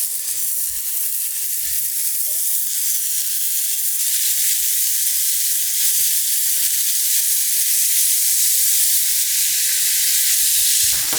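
Steak fries in clarified butter in a hot pan, giving a loud, continuous, close-up sizzle that holds steady throughout with no pauses and no talking.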